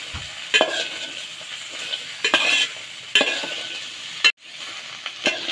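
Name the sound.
okra frying in oil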